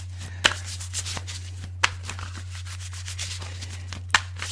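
Tarot cards riffled and shuffled by hand in a deck, a soft steady rustle with a few sharper snaps of cards, close and quiet over a constant low hum.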